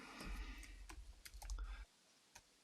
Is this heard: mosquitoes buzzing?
no